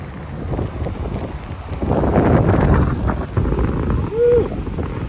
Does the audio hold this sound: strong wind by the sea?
yes